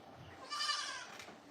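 A single drawn-out goat bleat rings out from a farm goat, near and moderately loud over quiet background, lasting about a second with no talk.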